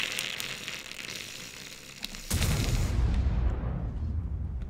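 Artillery fire in a video game: a heavy boom erupts about midway, followed by a loud, sustained rumbling roar that fills the rest of the moment, with busy game noise before it and no talk.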